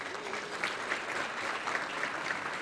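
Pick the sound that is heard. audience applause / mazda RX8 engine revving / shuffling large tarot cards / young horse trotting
audience applause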